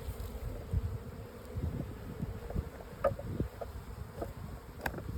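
Honey bees hum steadily around a hive, a close, continuous low buzz with scattered individual insects zipping past the microphone, mixed with light wind noise.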